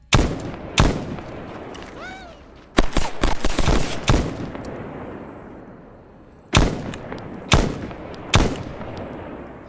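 Sharp video game gunshots in a large PvP raid, loud single cracks and short bursts separated by decaying echoes and quieter gaps, fired close.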